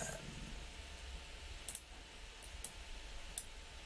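A computer mouse clicks a handful of times, sharp and faint, in short bursts over a quiet background hum.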